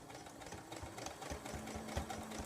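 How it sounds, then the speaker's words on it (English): A domestic sewing machine stitches along the edge of a towel in a fast, steady mechanical whir with rhythmic needle clatter, close and continuous with no talking. "I'm going to turn it here now and sew all the way around it"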